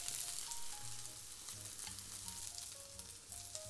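Salmon sears hard in a hot pan, a loud steady sizzle and crackle filling the whole stretch, with faint scrapes and no voices.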